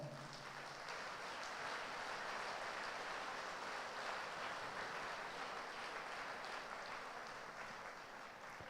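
A retreat-centre congregation claps together, a faint, even, continuous patter of many hands sustained at a steady level throughout, with no voices rising above it.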